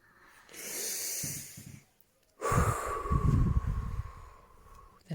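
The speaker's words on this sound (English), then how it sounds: "Can you show us how to take a deep breath?" A child takes a deep breath, a long audible inhale followed by a strong, breathy exhale with a snorting, wheezy edge, close and alone with no talking.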